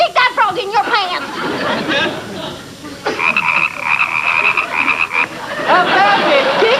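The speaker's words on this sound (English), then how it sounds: "stick that frog in your pants" A frog croaking, sharp throaty croaks and rapid chirping calls set against a lively comedy-sketch scene, with people talking and a steady tonal warble in the middle, fairly loud and close.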